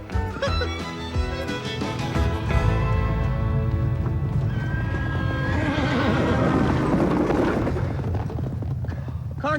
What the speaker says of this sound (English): it's that wild horse again